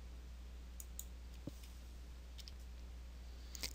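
Computer mouse clicks while placing a luminaire in AGi32 lighting software, a few faint, sparse clicks over a low steady hum, with no speech.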